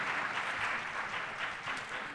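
An audience at a Durham high school all-county chorus concert claps steadily in a dense, even patter that fills the room for the whole stretch, with no talk over it.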